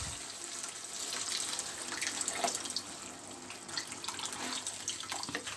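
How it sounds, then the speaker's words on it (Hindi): A cup of water is poured into qeema karela (minced meat with bitter gourd) cooking in a pan, a continuous close splashing rush with no voices. "अब मैं इसमें पानी ऐड कर दूंगी 1 कप।"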